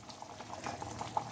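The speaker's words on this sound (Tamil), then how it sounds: "இந்த கிரேவி கொதிச்சுன்னு இருக்கு இல்லையா கடி," Kadhi gravy simmering with pakoras in a pot, a soft continuous bubbling and low liquid burble heard close and alone, with a few small pops.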